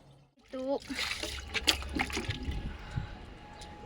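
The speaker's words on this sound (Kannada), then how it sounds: "ಬೇಗ ಬೇಗ ಬೇಗ ಪಾತ್ರೆ ತೊಳ್ಕೊಂಬಿಡೋಣ" Tap water gushes and splashes while dishes are washed by hand, starting abruptly and running on under a person talking.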